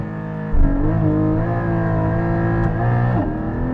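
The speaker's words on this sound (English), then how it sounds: "When I'm launching it, it's spinning up the wheels" Porsche Cayman GT4 (2022) launching with wheels spinning, a loud, close engine roar that holds a high rev for a few seconds, with a brief dip in pitch near the end.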